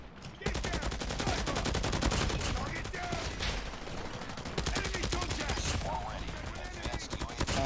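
LMG gunfire in Call of Duty Mobile, sustained rapid automatic bursts that rattle on almost continuously at close range, with a voice talking over the shooting.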